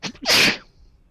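A single loud sneeze, a quick intake of breath and then a sharp, hissing burst, close up and followed by quiet.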